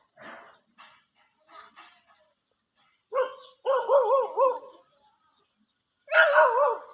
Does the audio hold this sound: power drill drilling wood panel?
no